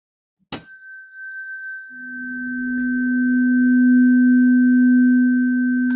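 A pure, sine-like sustained tone known as the Asher begins with a sharp click, then holds steady and smooth for several seconds, swelling slightly in loudness as a lower partial joins in, with no voices.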